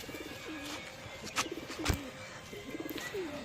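Pigeons coo close by in soft repeated throaty phrases, with light scuffs and knocks around them.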